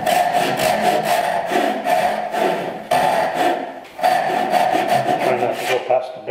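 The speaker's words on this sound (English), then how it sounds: "So I think we're done with the Ryoba for now." Hand sawing into wood with a Japanese Ryoba pull saw while cutting a bridle joint makes a rhythmic series of rasping strokes, about a dozen close, loud pulls with a brief pause midway.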